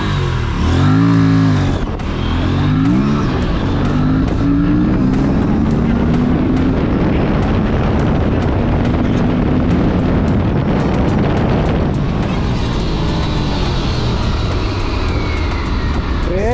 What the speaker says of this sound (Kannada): ಬನ್ನಿ ಇಲ್ಲಿಂದ ಒಂದು ಪ್ರಾಪರ್ ಲಾಂಚ್ ತೊಗೊಂಡ್ಬೋಣ.